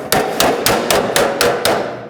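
A hammer or slapper strikes a metal panel held against a dolly during engine bay fabrication on a BOSS XC custom car, eight sharp, evenly spaced metallic bangs close up, loud, with no talking.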